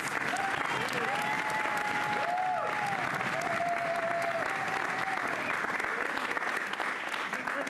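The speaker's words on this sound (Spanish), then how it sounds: "Así que recibámoslo con un fuerte aplauso." Studio audience applause at a TV comedy show: a dense, steady wash of many hands clapping fills the whole stretch at full strength, with a brief tonal whoop riding on top.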